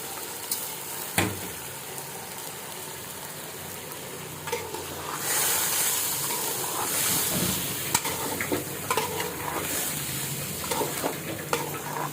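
Rice fries in a pan for polao with a sustained sizzling hiss that swells briefly, broken by occasional clicks and scrapes of stirring, and no voices.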